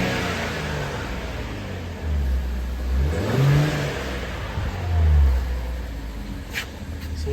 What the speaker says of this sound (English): If you rev it up, all you hear is engine.